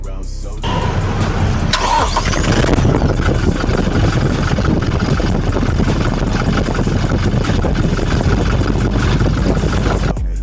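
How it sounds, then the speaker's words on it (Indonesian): A 2022 Toyota Hilux Double Cabin V 4x4 diesel automatic cranks and fires after a short quiet moment, then settles into a loud, steady clattering idle that runs on close by until it cuts off at the end. "jadi ketika starter mobil ini injak rem kemudian langsung starter aja ya"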